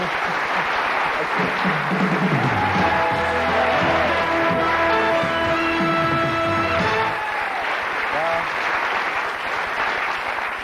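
Sustained applause from a large audience at a 1985 BBC televised awards ceremony in a grand hall fills the whole stretch, with a tonal musical or voice passage sounding through it midway.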